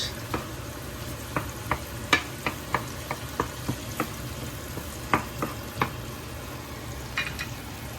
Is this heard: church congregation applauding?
no